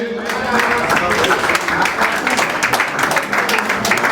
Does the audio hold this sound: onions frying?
no